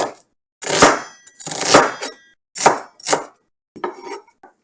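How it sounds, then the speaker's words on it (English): A knife chops an onion into big slices on a board, with about six crisp, separate strikes spaced unevenly and loud and close, with no talking. "I'm going to go ahead and chop up the onion."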